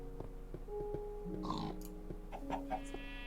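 Chicken clucking in Minecraft, a few short clucks at moderate distance amid other quiet game sounds, with no talking.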